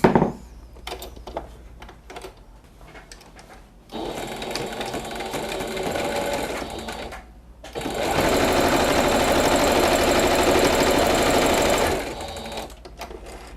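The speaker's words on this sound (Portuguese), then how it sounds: "E aí eu vou passar uma costura reta nas duas bordas externas aqui do viés" A sewing machine runs in bursts, sewing a straight seam along the outer edges of bias binding on a cloud-shaped cushion. Short stops come first, then a steady run of a few seconds, a pause, and a longer loud run before it stops.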